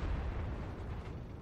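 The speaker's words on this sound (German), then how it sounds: "Jetzt hat der IS-3 geschossen" An IS-3 heavy tank fires its cannon in World of Tanks: a deep, loud blast that rolls on as a sustained rumbling boom for over a second, close and alone.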